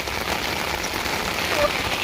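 Steady rain patters on a surface outdoors on a hillside, a dense even hiss that fills the whole short stretch without a break, loud and close, with no talk over it.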